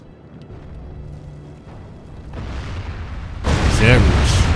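An artillery piece fires in the video game Medieval: Total War, with a quiet, rising lead-in followed by a loud, booming blast near the end, while someone talks.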